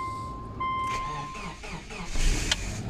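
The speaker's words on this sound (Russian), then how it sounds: "Цепляется кабель, заводим. Так, смотрим. В принципе, автомобиль ожил." A car engine cranks and catches after a jump-start with jumper cables, rising into a steady idle close by, while someone talks over it.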